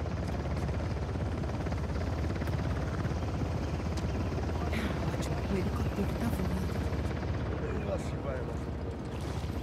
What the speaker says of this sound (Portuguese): Eu sei que o helicóptero tá voando.